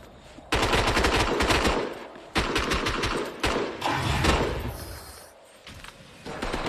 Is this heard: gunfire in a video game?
yes